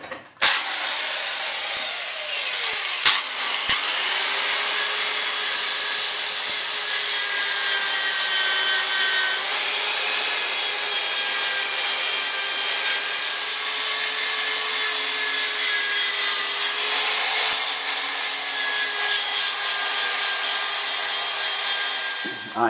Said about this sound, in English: grind the primer off underneath